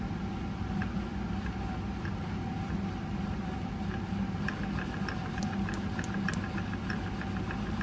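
A small Centurion ARV engine idles at low RPM on a test bench, a steady low chugging drone with faint periodic knocks and a thin high whine, continuous and moderately loud, no voices.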